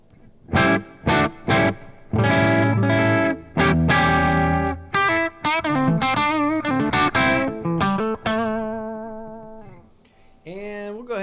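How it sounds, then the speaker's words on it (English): Electric guitar through a REVV D40 Dynamis amp, a run of ringing distorted notes with a lingering reverb tail as the last chords fade. "we'll go ahead and put on the reverb"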